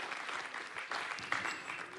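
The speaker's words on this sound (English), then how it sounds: "So let's give them a round of applause." Closing-ceremony crowd at a blockchain conference main stage applauding a presenting team, steady dense clapping that fills the full two seconds at an even level, with a slight swell partway through.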